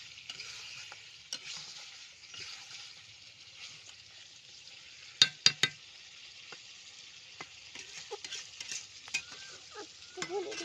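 Chicken kosha cooks in a pan with potatoes, a faint steady sizzle broken by clustered clinks and scrapes of a spoon stirring against the pan.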